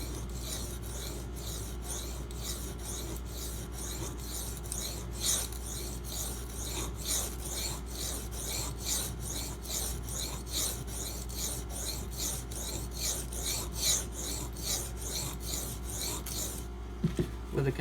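A knife blade is sharpened on a coarse Kyoto 150 whetstone, a steady series of gritty rasping strokes in an even back-and-forth rhythm, close and fairly quiet, over a low constant hum, ending with a couple of light knocks.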